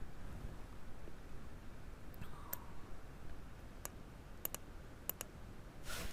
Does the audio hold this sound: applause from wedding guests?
no